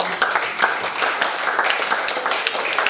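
Crowd at an AI technology conference applauding, a short, even burst of many hands clapping together without pause.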